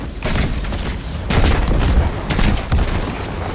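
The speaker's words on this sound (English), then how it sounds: "we'll do pulse rifle first to take his shield out, and then the big guns" Pulse rifle bursts and heavy weapon fire in the Destiny 2 video game, a few loud, close volleys of rapid shots and booms crowded together over a short stretch.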